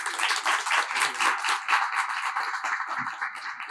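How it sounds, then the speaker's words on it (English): An audience at a street renaming ceremony at the Cleveland Asian Festival claps in steady applause, a dense wash of many hands that stays fairly even and carries on without talk. "Please give up a round of applause for her"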